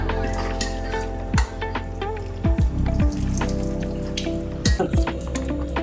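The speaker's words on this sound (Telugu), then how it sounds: "ఇప్పుడు పప్పు వడేసుకుందాము. ఉడికింది కదా." Boiled lentils are drained, and the water runs off in a steady, close trickle. Louder splashes and sloshing come in bursts, with no talk.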